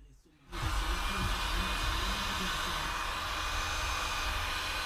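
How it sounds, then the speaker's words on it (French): A heat gun switches on abruptly and blows hot air in a steady, loud whooshing roar that holds constant close by, used on a threaded nut. "c'est le même principe qu'un sèche-cheveux, sauf que ça chauffe 50 fois comme un sèche-cheveux"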